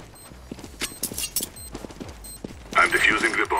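Counter-Strike: Global Offensive gunfire rings out in rapid single shots and short bursts during a bomb defusal round, followed by a louder, denser flurry near the end, with players talking over it.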